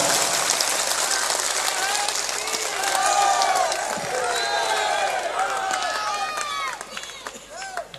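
Loud applause from a crowd at a satsang gathering in Kasimpur, a dense sustained clapping wash with cheering voices and shouts mixed in, tapering toward the end.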